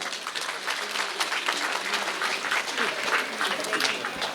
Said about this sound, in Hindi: सभी ताली बजाएं।